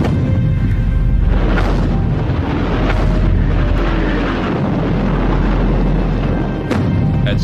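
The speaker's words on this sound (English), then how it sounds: "The offensive started at 6 a.m. with an hour-long artillery bombardment of German positions." Continuous rumbling barrage of artillery shells pounding German positions on the Somme front in 1916, with deep booms rolling together into a loud, unbroken roar and a few sharper thuds standing out.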